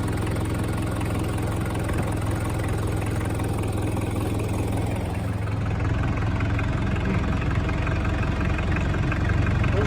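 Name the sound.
Mitsubishi Pajero 2800 4-cylinder diesel engine idling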